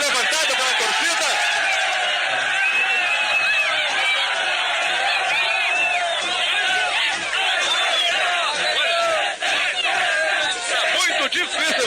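A dense crowd of Grêmio supporters cheers and chants nonstop, loud and close, as they lift player Denner, with a voice talking over the roar throughout.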